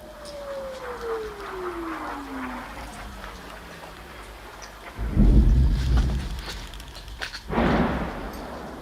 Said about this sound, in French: Dehors, les tirs de missiles russes redoublent d'intensité.